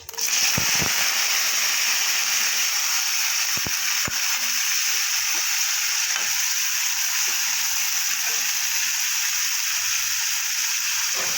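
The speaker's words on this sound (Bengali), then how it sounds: "তেলটা আমার গরম হয়ে গেছে এবার আমি দেবো একটু মৌরি শুকনো একটা আর দেবো কুচনো পেঁয়াজ" Fennel seeds, a dried chilli and chopped onion hit hot oil for a bitter gourd chorchori, setting off a loud, dense sizzle that stays constant throughout, broken by a few sharp pops and crackles.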